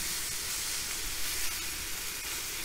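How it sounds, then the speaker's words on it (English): A sous vide ribeye steak sears on a hot soapstone on a Kamado Joe grill, producing a continuous loud, broad hiss that stays even throughout with no talk. "Really good sears going on here."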